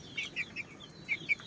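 A chicken at a chicken raffle in Basilan gives five short, high, clipped clucks in two quick groups, fairly faint and close, with no talk over them.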